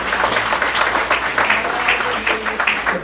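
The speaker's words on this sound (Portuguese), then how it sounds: "Uma salva de palmas ao Senhor." A church congregation applauds in praise to the Lord, a dense steady round of clapping filling the room with voices mixed underneath.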